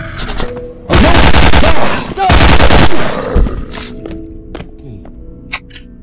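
AK-47 gunfire in a video game, two loud sustained automatic bursts about a second each, close and dominant, followed by scattered single clicks and thuds as the fighting dies down.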